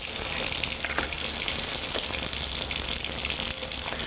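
Tap water gushing steadily into a kitchen sink while a pepper is rinsed for stuffed peppers with steak, loud, close and continuous throughout with no talking.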